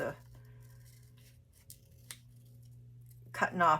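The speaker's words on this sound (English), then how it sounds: "I'm just gonna finish cutting it out" Scissors cut out paper for an altered envelope craft project, a few faint snips over a low steady hum, followed by louder rustling and handling of paper at the end.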